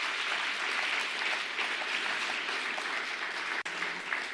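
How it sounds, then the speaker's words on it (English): An audience gives a speaker dense, continuous applause that stays loud and even from start to finish. "Shall we give her a resounding round of applause again?"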